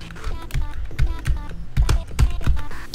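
Computer keyboard keys are pressed in quick irregular bursts, crisp close-up clicks and thumps with short gaps between flurries, loud and near with no talk over them.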